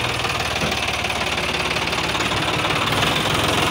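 A tractor engine runs steadily nearby, a loud, dense rumble with a rapid knocking pulse that holds without a break and no talk over it.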